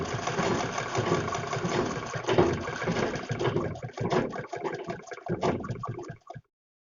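A sewing machine stitches piping onto a kurti neckline, giving a steady, close mechanical whirr that breaks into a few quicker stuttering bursts before it stops abruptly.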